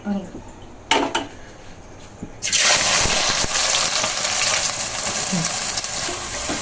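Onions for chicken dum biryani hit a hot pan after a few clattering knocks, then a loud, steady sizzle of frying fills the rest of the clip.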